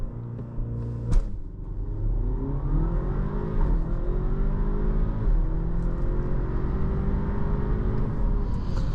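Audi A4 Avant 45 TFSI Quattro launching hard under launch control on a slight slope, its engine rumbling and rising through the revs in smooth, repeated climbs, heard from inside the car with no talking.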